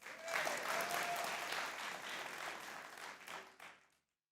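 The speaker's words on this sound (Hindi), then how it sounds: "तालियां बजाएं।" Studio audience at a cricket chat show with Ahmed Shehzad claps enthusiastically, a dense burst of applause that holds steady and then fades out after a few seconds.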